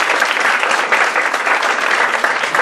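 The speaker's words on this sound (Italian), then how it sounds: "un applauso all'editore" Loud, dense applause from the audience at an Italian poetry book presentation, honouring the publisher; continuous, full clapping close by that holds steady for the whole stretch.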